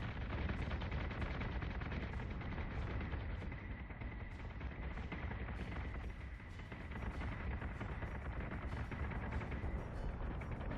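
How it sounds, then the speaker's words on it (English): Ship batteries fire in the space battle game BSG Deadlock, a dense and continuous barrage of rapid gunfire and booming blasts that holds steady for the full stretch, with no voices over it. "Set secondary battery. Full attack mode. Fire at will."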